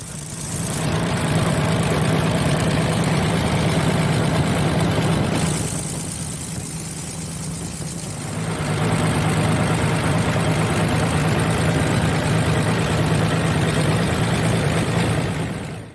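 A Farmall F20 tractor engine runs at idle with a steady low rumble and an uneven, misfiring beat, loud and close throughout, dipping briefly midway before returning to full level.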